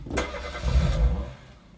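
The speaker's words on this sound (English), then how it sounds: "You can hear they've clearly sampled the starting of a car engine" A sampled car engine starts inside a track: a quick cranking burst, then a low rumbling catch that swells and settles, heard alone.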